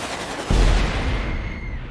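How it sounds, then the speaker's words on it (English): Gunfire in the video game Saints Row: Gat Out of Hell, a sudden loud blast followed by a sustained booming, rumbling wash with no speech. "Where is that one shooting from?"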